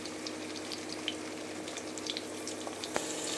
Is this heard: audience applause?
no